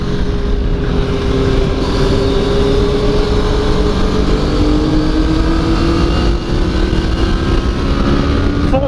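Motorcycle engine at full power in third gear on a race track at New Hampshire Motor Speedway, a loud continuous roar with a slowly rising pitch, close and steady throughout with no pauses.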